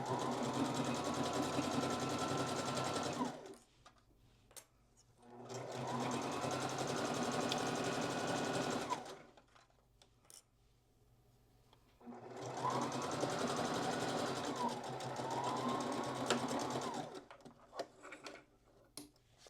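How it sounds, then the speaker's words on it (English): A sewing machine stitches a 1/4 inch seam down the side of a dog bandana made from a man's shirt fabric, running in three sustained bursts separated by short pauses and faint handling clicks, with no talking. "I'm going to sew down this side using a 1/4 inch seam allowance"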